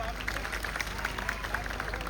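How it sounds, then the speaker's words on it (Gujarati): Crowd at an Aam Aadmi Party political rally clapping together, a busy, even patter of many hands heard from a short distance, with some voices mixed in. "બધા માટે એકવાર જોરદાર તાળીઓ પાડી લે"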